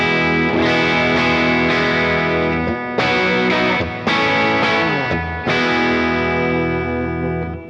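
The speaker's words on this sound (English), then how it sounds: "this is what the straight up amp tone sounds like" Clean electric guitar tone from the bridge pickup of a Duesenberg Star Player through a Fractal Axe-Fx II amp model, loud strummed chords ringing out and restruck several times, alone without talk.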